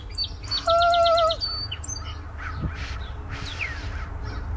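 A contestant at a bird calling contest imitates a bird call with their voice, a short run of sharp, rhythmic, whistle-like chirps followed by fainter scattered calls against a steady background hum.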